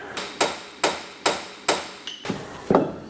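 A hammer strikes metal in a steady series of sharp, ringing blows, about five evenly spaced hits followed by a couple of quicker, clattering knocks.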